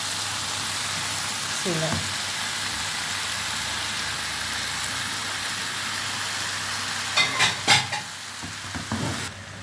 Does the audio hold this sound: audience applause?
no